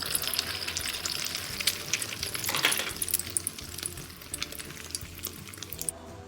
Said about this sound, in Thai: ก่อนที่เราจะผัดข้าวผัดนะคะ เราก็ มาท ำไข่ทอดนะคะ ไข่ดาวทอดนะคะ